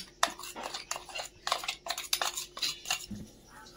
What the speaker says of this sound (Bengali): এটার মধ্যে দিয়ে এইভাবে আমি চিনিটা ডিমটা ভালো করে মিশাবো